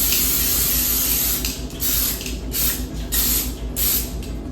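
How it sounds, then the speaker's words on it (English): Non-stick cooking spray hisses from an aerosol can into a baking pan for peanut butter brownies, several steady bursts close to the mic with no talking. "I have non-stick cooking spray. You can use butter or whatever you want to spray it down."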